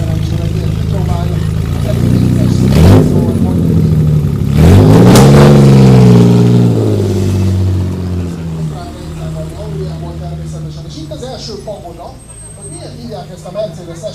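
A classic Mercedes SL Pagoda convertible has its engine revved twice in quick succession, each rise followed by a slowly falling whine that settles into a low idle, all under ongoing talk.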